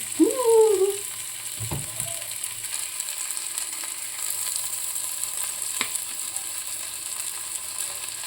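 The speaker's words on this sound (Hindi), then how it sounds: "अब मैंने भिंडी को कढ़ाई में डाल दिया है।" Okra frying in a kadhai gives a faint, steady sizzle close by, with a brief clatter near the start and no talking.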